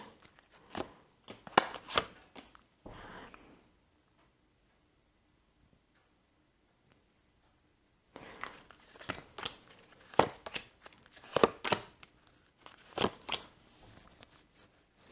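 Sharp clicks and papery rustles come in bursts as dropped cards are gathered into a pile and tapped together, with a long quiet pause in the middle.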